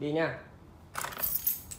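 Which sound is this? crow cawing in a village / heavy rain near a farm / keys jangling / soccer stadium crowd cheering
keys jangling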